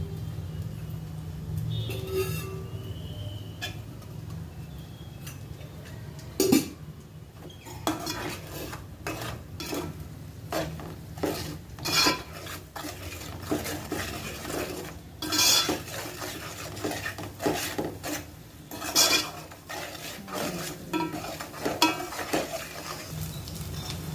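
Raw prawns and a generous amount of red chili powder fry in oil in a metal pan, with gongura sorrel leaves going in for a pickle. A spatula scrapes and clanks steadily under a soft, continuous sizzle, with sharper metallic knocks recurring throughout.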